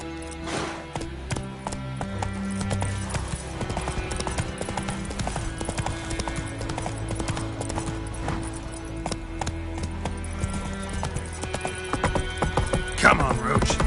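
Rhythmic hoofbeats of Roach, a horse trotting in The Witcher 3, keep a steady clip-clop pace under a layered musical score, with a brief louder burst at the end.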